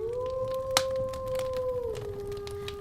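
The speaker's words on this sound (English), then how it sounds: "With the howl of the wolf in the north, that draws a close to this week's episode." A wolf howl sound effect: a long sustained tonal wail holding steady, then dipping in pitch near the end, fairly loud over a low background hum with a brief click partway through.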